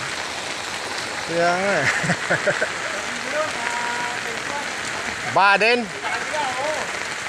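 Heavy rain pours steadily over a flooding residential subdivision in Imus, Cavite, a dense wash of noise that runs under two people talking throughout.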